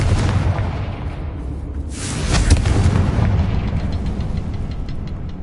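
A Confringo explosion spell goes off in the Hogwarts Legacy video game: a heavy, fairly close boom swells about two seconds in and rumbles on over a continuous low, loud background.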